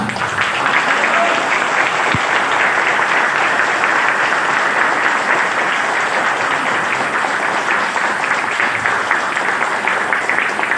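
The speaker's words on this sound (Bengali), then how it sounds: "এইরকম হাততালির আওয়াজ" Sustained applause from a crowd at a large seminar event, dense steady clapping that stays loud and even for the whole stretch.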